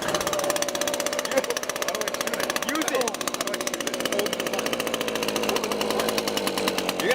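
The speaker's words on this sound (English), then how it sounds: "So what we're trying to do is we're trying to start this leaf blower." A small two-stroke leaf blower engine drones steadily and loud throughout, a dense buzzing run with slight rhythmic fluctuation, while people talk over it.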